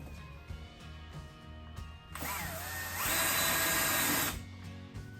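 A power drill driving barrel nuts during assembly of a Harbor Freight work bench, a brief whirring burst that rises to a steady loud spin for about two seconds, then stops against quiet room background.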